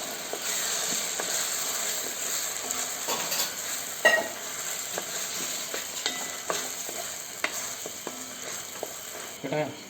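A spoon scrapes and clacks against a pan as a chicken curry mixture is stirred, over a continuous sizzling hiss, with irregular sharper knocks, one louder near the middle.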